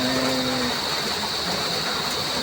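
Steady rain pours down in the countryside at Candelaria, a dense, even wash of sound that continues without a break, with a brief low hum at the start.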